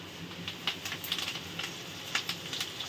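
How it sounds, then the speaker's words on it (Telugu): Curry leaves fry in a pan over low heat, giving a fairly quiet bed of sizzle with irregular sharp crackling pops; no one speaks. "సిమ్లోని ఫ్రై చేసుకోవాలి కరివేపాకుని కూడా"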